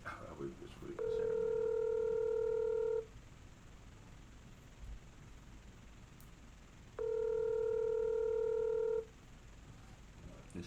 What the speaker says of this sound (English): let's see if we can get Pete to answer the phone call.